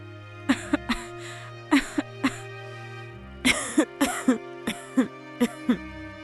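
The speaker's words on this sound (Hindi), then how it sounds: "इतनी खांसी?" A series of harsh cartoon coughs in short bursts, some clustered two or three together, over a faint background hum.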